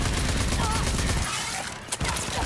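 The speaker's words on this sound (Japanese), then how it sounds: "やっぱめちゃくちゃ撃ってきてる。" Enemy gunfire in the video game Rage 2 crackles in a dense rapid volley, thinning briefly before a sharp shot and more firing.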